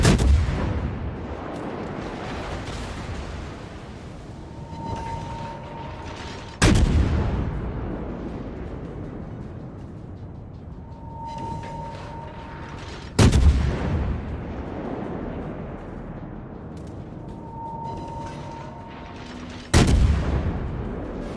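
Naval guns of the Cleveland cruiser firing in World of Warships, four heavy booming salvos about six seconds apart, each a sharp loud blast rolling off into a long rumbling decay, with faint tones between shots.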